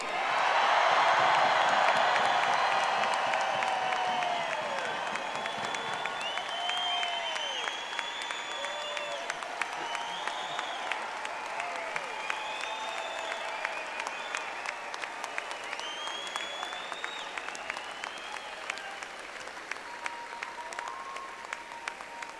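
A large crowd of graduates at a university commencement claps, screams and whoops, loudest at first, then settling into sustained clapping with scattered high shouts and whistles.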